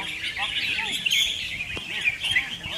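Caged songbirds in Thailand chirp and trill continuously, with bright, overlapping high calls nearby and faint voices in the background.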